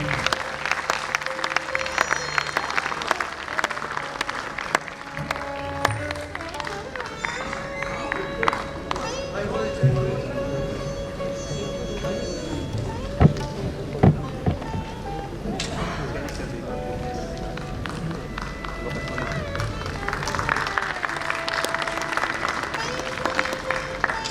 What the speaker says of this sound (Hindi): हमारे चेयरपर्सन का तालियों से स्वागत करें